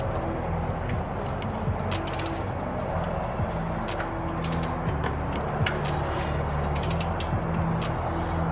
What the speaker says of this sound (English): I'm going to rotate the engine over 1 full turn. That'll be 2 turns of the crank